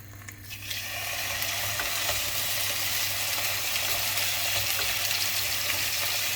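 A ribeye steak sears in a pan on full heat, giving a loud, steady hiss and crackle that swells in within the first second and then holds unbroken up close, with no talking.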